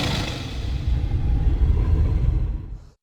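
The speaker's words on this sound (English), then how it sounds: "we've got everything from stylized growls like this" A stylized creature growl for a snowy stalking scene rumbles low and heavy, a loud continuous guttural rasp that swells and then fades out over about three seconds.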